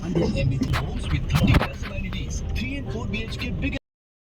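Heavy road traffic rumbles outside a school, with cars, buses and trucks passing and revving close by, a steady engine drone under scattered voices.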